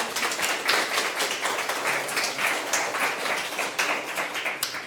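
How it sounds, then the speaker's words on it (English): An audience at an evening speaker event claps in a steady, dense round of applause that lasts several seconds with no break, heard from within the room. "Please join in a round of applause for our speaker."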